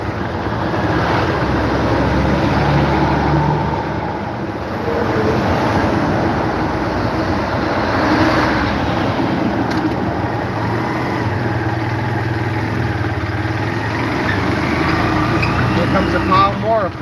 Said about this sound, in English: Wow, that's a pile of big trucks coming.